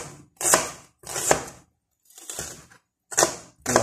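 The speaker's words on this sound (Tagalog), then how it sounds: "hiwain na po natin siya ng pino" Knife chopping cabbage finely on a cutting board, five or six separate crunchy slicing strokes spaced about half a second apart, close and fairly loud with short pauses between.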